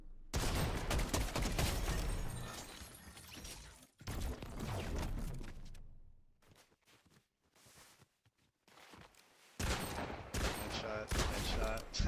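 Bursts of Fortnite gunfire, rapid loud shots in clusters separated by short quiet gaps, with a voice talking among them.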